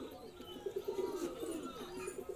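A female Kalanka pigeon of the Andhra breed gives a low, warbling coo in a loft, rising and falling in soft repeated pulses, faint and close, with little else around it.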